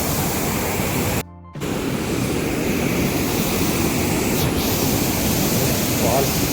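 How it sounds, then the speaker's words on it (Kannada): Water rushing steadily down a rocky stream at Durga Falls near Karkala, a loud, close, unbroken roar that drops out briefly for a moment, with no voices standing out. "ಈ ತರ ನೀರು ಬರ್ತಾ ಇದೆ ನೋಡಿ"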